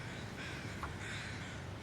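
Crows caw in the snowy wilderness of the survival game The Long Dark, a few faint, distant calls barely rising above a steady wind-like ambience, with no talking.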